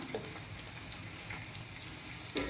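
Fennel seeds, cinnamon and cloves frying in ghee, a soft, steady sizzle and crackle close by with a few faint pops and stirring scrapes, quiet overall and without any voices.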